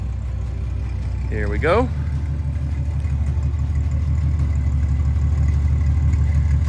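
A show car's engine runs with a steady low rumble throughout as it pulls away, and a short spoken phrase is heard near the start.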